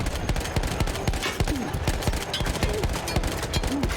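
Gunfire from a PC video game on the Origin platform, played with a standard gamepad, crackles in dense rapid bursts of loud overlapping shots.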